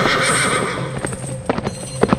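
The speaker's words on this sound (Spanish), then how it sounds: "De pronto, escuchamos el relinchar de un caballo." A loud, drawn-out horse whinny followed by a few hoof clops, close by and with no talking.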